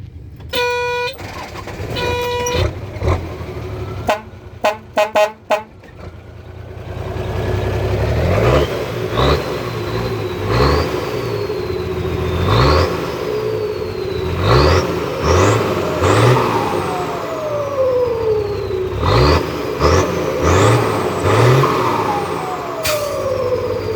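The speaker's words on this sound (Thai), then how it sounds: "ไหนลองติดเครื่องหน่อยสิ" A Hino HO7C turbo truck engine cranks with a few sharp clicks, then catches and revs repeatedly. Each rev rises into a whining turbo sweep over a loud, close diesel rumble.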